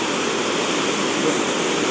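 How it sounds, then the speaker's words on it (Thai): Floodwater rushes over the spillway of the Tuek Chu reservoir dam in Phu Sing district, Sisaket province, during a flash flood, making a loud, close, unbroken roar of churning water. "แรงมากครับน้ำไหลแรงจริงๆ ครับผม"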